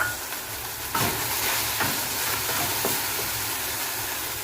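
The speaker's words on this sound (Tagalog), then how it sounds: "Lagay na po natin ang ating bawang at sibuyas." Garlic and onion hit hot oil in a pan, bursting into a loud, close sizzle that holds steady, with a few light stirring knocks and no talking.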